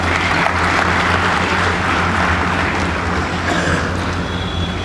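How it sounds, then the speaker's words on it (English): A hall audience applauds a speaker at an address, with dense, steady clapping that fills the room at full strength throughout and stays fairly even to the end. "so give him a big round of applause."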